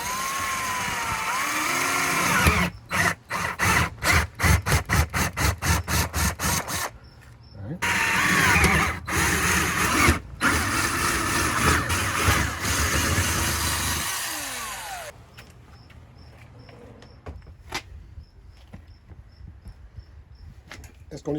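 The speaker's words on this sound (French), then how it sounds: "je vais percer 4 trous, soit dans les 4 coins de ce rectangle. La mèche que j'utilise, c'est 1/2 pouce." A 1/2 inch bit drilling holes during a Dura Faucet shower install on a Prolite Lounge, heard as bursts of whining drill motor with stop-start triggering and a faint hum afterward.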